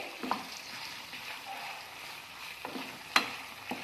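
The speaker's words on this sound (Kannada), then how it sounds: "ಇದಕ್ಕೆ ಇವಾಗ ನಾನು ಬೆಳ್ಳುಳ್ಳಿ ಹಾಕ್ಕೊತಾ ಇದ್ದೀನಿ" Garlic frying in a pan for a red chutney served with masala dosa: a soft, steady sizzle with a few sharp clicks of stirring against the pan.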